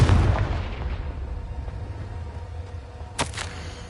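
Confringo blasting spell going off in Hogwarts Legacy, a deep rumbling boom that fades over a few seconds, followed later by a couple of sharp crackling bursts, with no talk.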